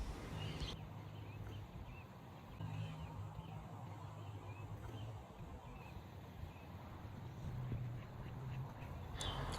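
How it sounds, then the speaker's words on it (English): A duck sitting on eggs in a bush outdoors gives repeated low quacks in several bursts across the stretch, fairly close, over steady outdoor background noise. "I actually found a duck in a bush that was sitting on eggs"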